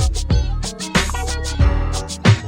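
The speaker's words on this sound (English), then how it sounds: "my doorbell sounds like this." A musical novelty doorbell chime plays a short melodic phrase of several bright tones over a full accompaniment, loud and close with no talking.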